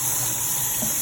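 Tap water runs steadily into a sink while collard greens are rinsed, a constant close hiss and splash lasting about a second with no talk.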